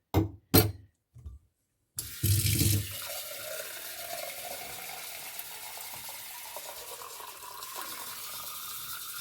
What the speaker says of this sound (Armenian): Սովորական խորակի ջուր եմ լցնում խառը։